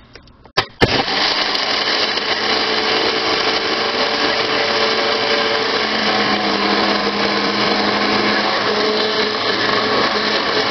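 A blender whirs steadily as it grinds Reese's Puffs cereal, starting with a few sharp clicks and then running loud and continuous for about ten seconds, with no talking.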